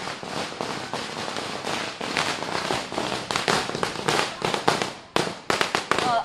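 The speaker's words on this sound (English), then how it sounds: "firecrackers going off in the national capital" Firecrackers go off in a celebration in Delhi, the national capital, in a dense run of loud, crackling bursts and sharp bangs that barely pause.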